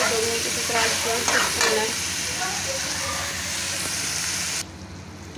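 Okra (bhindi) sabzi with garlic and tomato fries in a pan, giving a steady, loud sizzle with scraping stirs throughout. A voice speaks briefly over it.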